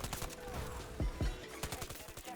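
A sentry gun in Battlefield 2042 fires rapid bursts of gunshots in a fast, uneven rattle amid battlefield noise, with a couple of heavier deep thumps in the middle.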